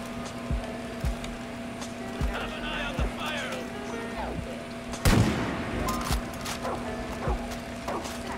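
Sniper rifle fire in the video game Far Cry 5, a single sharp loud report standing out over a busy game soundscape of engine hum and scattered impacts, with people talking throughout.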